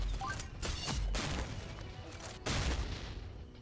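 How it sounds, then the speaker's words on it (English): Loud, close gunfire in the mobile shooter Pixel Gun 3D, several heavy shots and blasts spaced unevenly over a dense, noisy game soundscape, with no voice heard. "Someone's shooting me."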